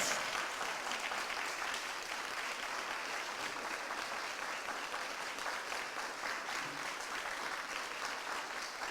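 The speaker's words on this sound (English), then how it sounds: "Let us all stand up and give Dr. Ortiz a round of applause." A standing audience at a symposium gives sustained applause, a dense, even wash of many hands clapping that holds steady throughout without a break, heard from the middle of the room with no talking on top.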